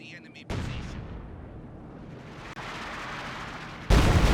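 A regular artillery shell fires with a heavy, booming onset in a World War II strategy video game, then a long rumbling tail; a second loud, broad blast arrives near the end.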